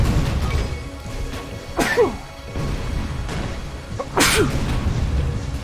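Two sharp sneezes, one around two seconds in and another about two seconds later, each a sudden burst over faint background noise from the game Tower of Guns.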